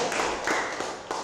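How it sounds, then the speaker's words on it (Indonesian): Schoolchildren clapping in a classroom during a sixth-grade school assessment, a short burst of steady applause with a few sharper claps standing out, close and fairly loud. "beri tepuk tangan."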